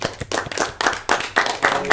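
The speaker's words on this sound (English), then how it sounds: "Round of applause." A studio audience claps in a round of applause during a team game show, the dense clapping coming in several swelling bursts that rise and fall.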